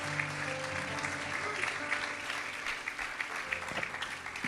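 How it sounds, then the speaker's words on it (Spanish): Congregation applauding in a church service, steady dense clapping throughout with a low sustained musical tone underneath and faint voices mixed in. "Le damos un aplauso al Señor."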